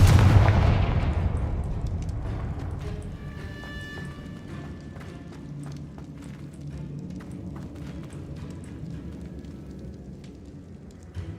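A Confringo spell fires in Hogwarts Legacy, setting off a loud blast that hits at once and then fades into a long rumbling decay, with scattered crackling debris after it.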